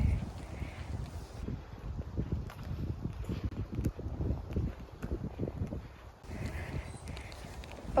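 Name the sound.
wind noise on microphone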